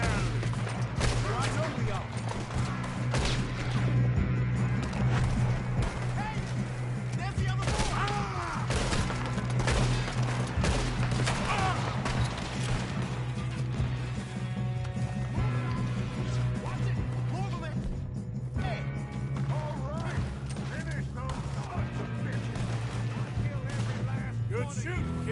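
Rapid gunfire bursts and scattered shots from a Red Dead Redemption 2 gunfight, loud and dense throughout, with a steady low rumble and voices talking over the shooting.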